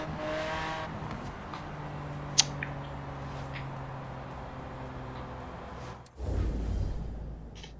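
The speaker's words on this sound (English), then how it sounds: "I am in Lamborghini." A Lamborghini driven in Forza Horizon 4, a steady engine drone holding at cruising revs, then a deeper low rumble swelling near the end.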